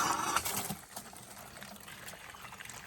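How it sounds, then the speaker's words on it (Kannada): Water running and splashing to soak clothes at home, loudest at first and then settling into a softer, steady trickle, with no talk. "ಫಸ್ಟು ಬಟ್ಟೆ ನೆನೆ ಹಾಕೋಣ"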